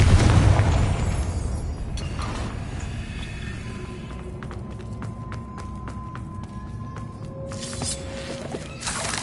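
A Confringo spell explosion in Hogwarts Legacy, opening with a loud boom that decays into rumble, followed by ringing magical chimes and a brief final burst.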